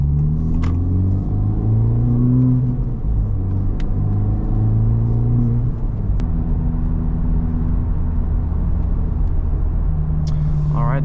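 A Honda Civic Type R FL5 cruises along, a steady engine drone and road rumble with gear-change shifts in pitch, loud and continuous from inside the car; a voice speaks briefly.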